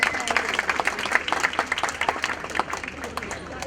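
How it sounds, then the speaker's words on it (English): Audience applause at a hospital golden jubilee celebration, a dense, steady burst of many hands clapping close by, with a voice speaking over it. "A big round of applause, ladies and gentlemen, for Joanne."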